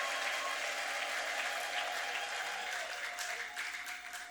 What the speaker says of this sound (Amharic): ለዚህ ጌታ ጭብጨባ አንጡ እስኪ